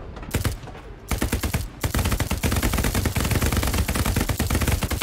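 Machine gun fire in the video game Hell Let Loose: sustained rapid bursts of loud, close shots, briefly pausing before resuming in dense continuous rattling.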